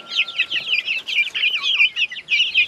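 Chickens and chicks on a Thai poultry farm, a dense stream of close, bright clucks and peeping chirps overlapping continuously with no talking.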